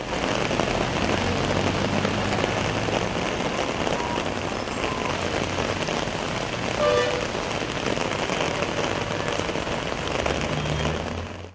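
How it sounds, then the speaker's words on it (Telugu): Heavy rain in Jaggayyapeta, a dense steady hiss of rain pouring down without a break, loud and even throughout, with no talk. "జగ్గయ్యపేటలో భారీ వర్షం పడింది."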